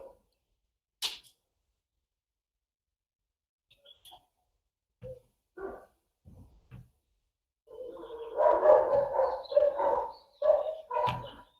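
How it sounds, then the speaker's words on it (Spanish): A neighbour's dogs bark in the distance at home, first as scattered sharp yaps with quiet gaps, then as a burst of repeated, overlapping barking near the end. "Si se escuchan los perros, son los perros del vecino"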